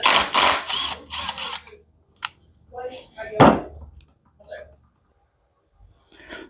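A valve cover is taken off a 2003 Robin engine with short metallic clicks and clunks, with a few sharper knocks between quiet gaps and brief talk.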